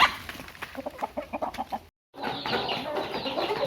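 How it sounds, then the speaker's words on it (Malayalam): Several chickens cluck in quick, irregular bursts nearby, pause briefly, then a busier jumble of clucking and scratching sounds resumes. "കോഴികൾ തീറ്റ എടുത്ത് തുടങ്ങിയിട്ടുണ്ട്"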